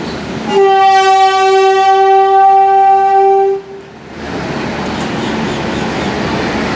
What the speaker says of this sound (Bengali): এটা হচ্ছে নিউ দিল্লি থেকে কলকাতা যাওয়ার ট্রেন